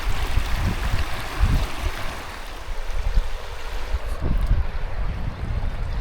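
Strong river current at a wading spot in Lemmenjoki National Park's wilderness, a broad steady rush of flowing water with low thumps and swells, fairly close and alone with no talk.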